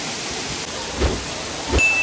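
Hidden waterfall at Bhimuni Padam in Telangana pours as a constant, even roar of falling water, with a couple of brief low thuds or bumps breaking through the steady rush.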